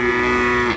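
Limousin-Simmental cross cattle lowing at a cattle market, a single sustained moo held steadily for most of the moment before tapering off, loud and close with no talk.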